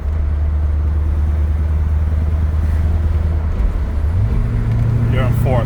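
A 1971 big-block Corvette Stingray engine drones low and steady at cruising revs, then its pitch shifts upward near the end as the car drops down to fourth gear, with a voice talking briefly over it.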